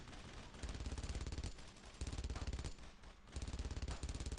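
Rapid machine gun bursts in a video game, loud and close, firing in sustained rattling strings broken by short pauses, with no talk over them.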